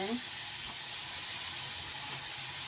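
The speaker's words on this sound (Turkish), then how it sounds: "Bunları da bu şekilde kızartıyoruz güzelce" Pieces of yufka dough fry in hot oil, giving a steady, even sizzle and hiss that runs close and unbroken from start to finish, with no talk over it.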